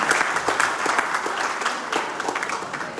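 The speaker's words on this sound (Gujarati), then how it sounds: "તાળીઓના ગણગણાથી વધાવી નમ્ર વિનંતી." Audience applause at a COVID warrior award ceremony, a steady, dense wash of clapping from a crowd that holds even throughout.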